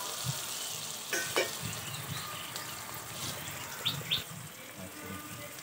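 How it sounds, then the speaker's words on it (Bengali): Bata fish frying in a pan gives a faint, steady sizzle with a few soft clinks and stirring touches. Light chirps sound in the background. "দেখো তো কী সুন্দরভাবে ভেজে নিচ্ছি, তোমরা এইভাবেই বাড়িতে ভেজে নেবে।"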